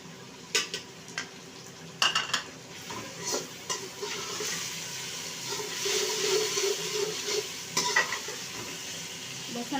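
Garlic ginger paste frying with browned onions in a pan for a bhindi dish, a soft continuous sizzle with intermittent stirring scrapes and clinks of utensil against the pan, close up and without speech.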